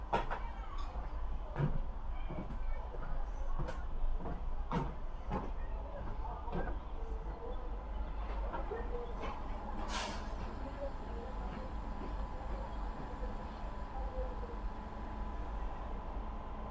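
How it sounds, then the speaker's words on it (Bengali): Andal-Sainthia MEMU passenger train pulling out of Andal station, heard from inside the rake: a low steady rumble with sharp hissing brake releases and clanks near the start, and a brief bright screech partway through. "অন্ডাল ছেড়ে বেরোচ্ছে এখন আমাদের ট্রেন"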